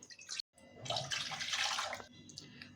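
Water pours from a tap into a container in the kitchen, a short close splashing stream after a brief clink, fading at the end.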